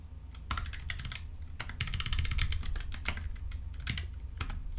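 Fast, steady typing on a new computer keyboard, a dense run of close clicky keystrokes with no talking.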